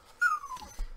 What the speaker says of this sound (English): I'm so sorry for my whining dog,